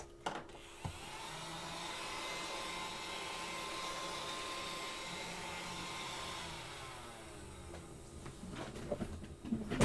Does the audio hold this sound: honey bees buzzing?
no